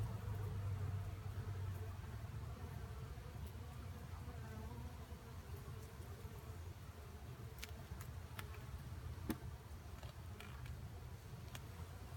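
Honeybees drone in a low, steady hum close by during a hive inspection, with faint light clicks and rustles scattered over the buzz.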